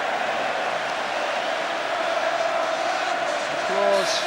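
A large football crowd at the 1984 FA Cup Final between Everton and Watford roars in a steady, distant wash of cheering and noise, with a faint whistle or shout rising near the end.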